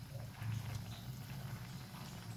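A pot of coconut milk stew with dried fish bubbles at a steady simmer, soft continuous burbling and popping close by, faint and even throughout.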